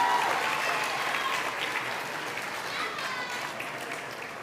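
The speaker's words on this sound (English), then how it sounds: "give him another round of applause" An audience claps steadily through the whole stretch at a schools' Black History elocution contest, with dense, even applause that holds at a constant level.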